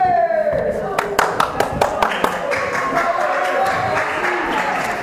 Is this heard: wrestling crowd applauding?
yes